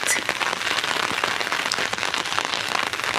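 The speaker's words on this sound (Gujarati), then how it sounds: "જો વરસાદ" Rain falls on a farmhouse rooftop terrace, a constant close patter of drops with scattered sharper taps against surfaces, steady and unbroken, with no talking.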